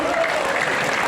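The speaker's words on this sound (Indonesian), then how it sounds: "tepuk tangan untuk Pak Yudhisman" A loud, dense burst of applause from an audience at the 2023 national leadership meeting of the Indonesian market traders' association, honoring Pak Yudhisman, with close clapping filling the whole short moment.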